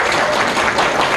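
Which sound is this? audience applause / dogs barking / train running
audience applause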